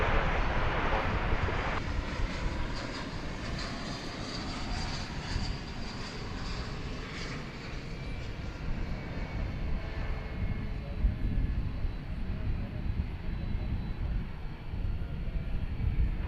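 A jet taxiing on the central taxiway between runways 18 Left and 18 Right at DFW Airport at night gives a steady, broad engine roar that holds at a fairly even level throughout, with no talk.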